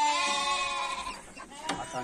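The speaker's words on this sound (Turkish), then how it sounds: "Bu arada kuzularımız da burada" Lambs among a flock bleat close by, first with one long wavering cry, then a shorter call follows after a brief gap.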